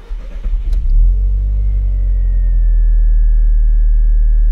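A 2001-era Audi TT MK1 engine runs with its airflow meter unplugged, first stumbling unevenly and then settling into a loud, close, steady low rumble with a faint whine above it.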